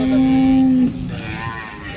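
A single loud, close moo from a Jersey cow at a cattle market, a low steady bellow lasting under a second, then fading into quiet background noise.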